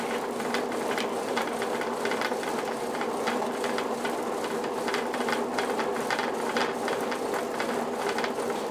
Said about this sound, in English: Usually when you take the load off, the motor speeds up a little bit.